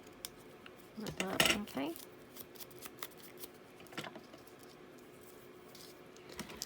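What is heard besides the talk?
scissors cutting paper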